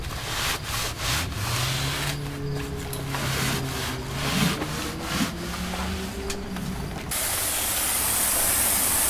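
Wet abrasive scrubbing of painted exterior wood siding during paint prep, giving a steady gritty rubbing with irregular strokes and a rising wash of noise toward the end, close and moderately loud with no voices.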